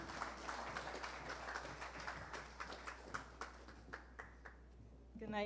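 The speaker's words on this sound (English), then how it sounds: "For a round of applause," Faint audience applause at a Caribbean media awards ceremony, a scattered patter of clapping hands with distinct individual claps standing out, quiet and distant throughout.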